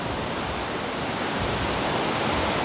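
Broad, continuous hiss of beach water washing in over the shore, close and fairly loud, a steady wash with no voices over it.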